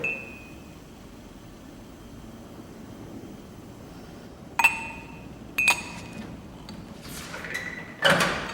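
Several bright clinks of an ice cube dropped into a glass of water, spaced apart and close, over a quiet steady background hum.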